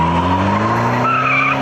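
Volkswagen TDI high-compression diesel engine running loud and close, a steady droning hum with a brief rise in pitch near the end, no voices.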